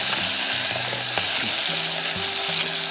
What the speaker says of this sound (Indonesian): Tumis heula ya nanti kasih seungit.